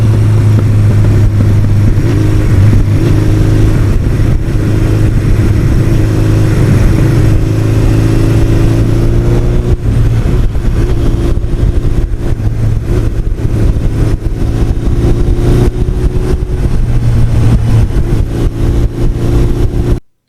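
A 1986 Honda NS250R two-stroke motorcycle rides the back roads of lower New York, its engine a loud, close, continuous buzzing drone that rises and falls with throttle changes for the whole stretch.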